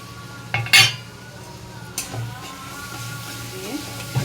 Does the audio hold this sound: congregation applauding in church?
no